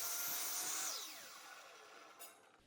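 A miter saw cuts a wooden workpiece, its high motor whine winding down in a falling pitch after the cut, with a small knock near the end.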